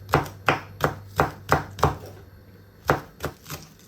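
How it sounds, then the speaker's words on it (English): Knife chopping scallion on a cutting board in a home kitchen, with about ten crisp, close, evenly spaced chops, a short pause, then a few more chops. "So right now, I'm just gonna cut up some scallion."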